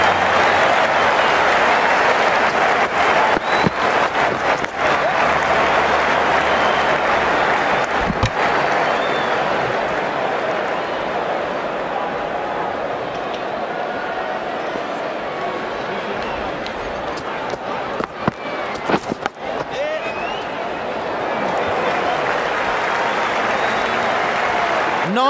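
A cricket crowd at the South Africa versus New Zealand tri-series final applauds and cheers in a loud, sustained wash of clapping across the whole stretch, with commentators talking over it.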